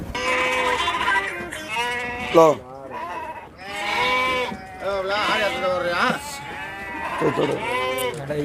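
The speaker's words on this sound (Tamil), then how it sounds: "அந்த வண்டியில் இருந்து தான் இப்போ நம்ம வண்டிக்கு நம்ம ஆடு லோட் பண்ண போகிறோம்." Goats bleating loudly and repeatedly at close range during loading onto a Tata 1109 truck, overlapping calls of several animals with people talking underneath.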